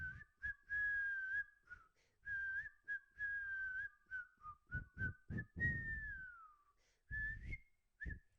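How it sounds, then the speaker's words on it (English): A person whistles a song melody in short, clear phrases with brief pauses between notes, close and alone, with faint thumps underneath. "Yes, I can whistle."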